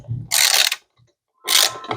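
A screw being backed out of a motorcycle tail light, two bursts of gritty ratcheting or scraping separated by a short pause, close up with no talk.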